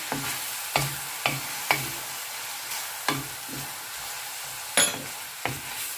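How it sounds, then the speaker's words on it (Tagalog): Pork and takway (taro runners) are stirred in a pan with soy sauce for adobo, a utensil scraping the pan in irregular strokes over a faint sizzle, with no voices. "So I'll just keep on mixing."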